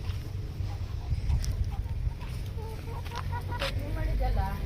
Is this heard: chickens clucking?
yes